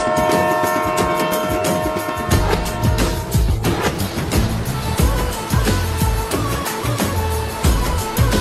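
A passenger train runs steadily through the Godavari countryside, its rolling rumble and rhythmic clatter continuous and fairly loud throughout, with no talk.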